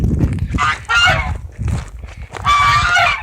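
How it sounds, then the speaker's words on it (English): Geese on a farm honking loudly and close, several harsh overlapping calls in bursts, alone with no talk. "See the geese?"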